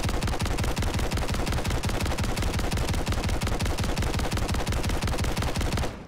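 Sustained rapid automatic gunfire from a Haymaker shotgun with a binary conversion firing incendiary rounds in Modern Warfare III, a dense, loud, unbroken stream of shots lasting about six seconds before cutting off abruptly.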